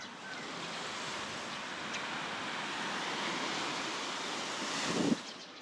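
Ocean waves at Pagudpud beach in the Philippines on a calm early morning: a steady wash of surf with wind noise, fairly quiet, swelling near the end.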